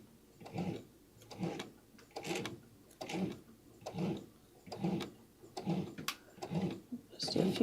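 A sewing machine stitches binding onto a tote bag in regular rhythmic bursts, with a person talking at the same time.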